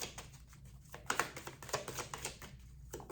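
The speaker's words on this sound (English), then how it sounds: "it's too many cards. I think I'll shuffle some more." Rapid papery flicking and soft slaps of tarot cards being shuffled, in quick bursts with short pauses, close and fairly quiet.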